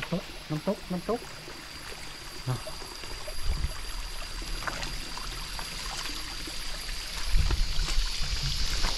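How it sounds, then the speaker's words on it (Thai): Forest waterfall near a jungle camp site: a steady rushing wash of falling water runs throughout, with someone talking at the start and faint knocks partway through. "ำตกน้ำตกน้ำตก"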